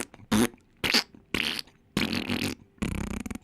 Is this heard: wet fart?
yes